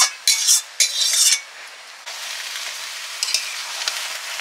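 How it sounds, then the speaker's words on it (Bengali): Spices sizzling in hot oil as a tempering for boiled mung dal, bright crackling bursts in quick spurts, then a steadier loud hiss with small pops close by. "ডাল সেদ্ধ হয়ে গেছে, ডালে এবারে ফোড়ন দেব।"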